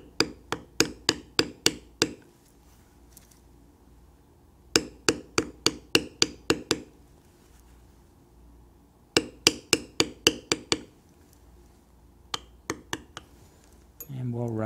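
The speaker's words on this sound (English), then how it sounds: "We're just going to use a pear shader to do the beveling." A metal pear shader stamping tool is struck repeatedly with a mallet to bevel a Sheridan-style leather carving, coming in close, sharp rhythmic bursts of taps separated by pauses.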